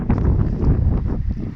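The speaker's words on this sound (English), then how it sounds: "The wind is still blowing above," Strong wind blowing outdoors on a farm where cattle are being moved by a CFMoto C-Force 450S quad, a loud, close buffeting rumble on the microphone that swells and eases over a moment.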